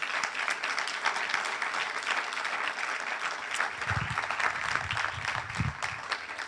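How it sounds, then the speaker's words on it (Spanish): A congregation at a church sermon applauds in a steady, even roar of clapping, moderately distant, with a few faint voices and low thumps rising beneath it toward the end. "Dale un aplauso al Señor"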